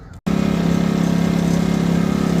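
A Powermate 2000i inverter generator with a newly replaced carburetor runs steadily after a brief cut, with a loud, even engine drone and a fast regular pulse, close and alone.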